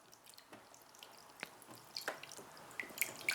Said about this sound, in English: the water's draining out, but then it's stopped